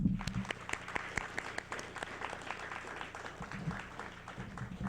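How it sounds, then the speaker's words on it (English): An audience at a technical college honor society induction gives the inductees steady, moderately distant applause, a dense patter of many hands that carries on throughout. "please join me in giving our 22 inductees a round of applause and congratulations"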